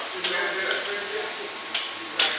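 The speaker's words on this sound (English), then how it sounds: "Let's chuck it in that, stir it around, let everything saute up" Scallion, bell pepper and onion saute in a hot pan with a steady soft sizzle, broken by a few sharp clatters of stirring.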